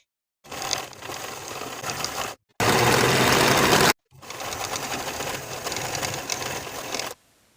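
A sewing machine runs in steady bursts, stitching the center seam of jeans panels with a half-inch seam allowance; loud, close and continuous, broken by two short pauses.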